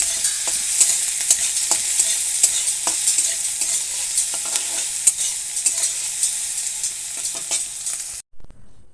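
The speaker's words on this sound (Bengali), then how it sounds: "আমি এগুলো অল্প লাল করে ভেজে নেব।" Chopped onion and green chili frying in oil in a wok, a bright close sizzle punctuated by frequent clinking, scraping stirs, ending abruptly in near silence.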